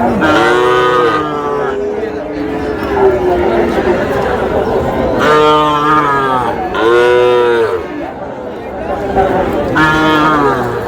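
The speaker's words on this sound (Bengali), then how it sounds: "ষাঁড় বাচ্চা" Several loud, drawn-out moos from young bull calves close by at a cattle market, repeating every few seconds over a chattering crowd of voices.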